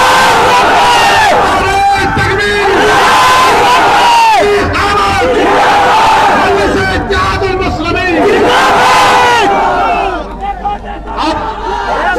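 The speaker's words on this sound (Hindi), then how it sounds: "सच कहा तो नारा लगा हमारे साथ, नारे तकबीर।" A large crowd at an outdoor political public meeting in Prayagraj roars the Takbir slogan in loud, repeated chanted bursts, with shouting voices and babble filling the air before the noise drops near the end.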